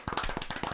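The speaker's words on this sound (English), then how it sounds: "Can we get a round of applause for Michelle?" A brief burst of live audience applause for Michelle, dense rapid hand claps packed closely together and fairly near, alone without talk.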